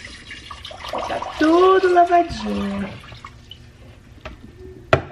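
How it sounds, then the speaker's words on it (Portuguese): Water poured into a freshly washed household water filter gives a splashing, gurgling rush for about a second and a half, then a few drips, with a person speaking over it. "E aí eu vou colocar aqui a água."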